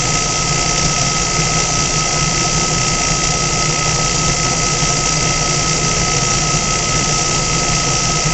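An electric motor spins at speed, giving a steady, loud, unbroken hum and whir that holds constant throughout with no talking.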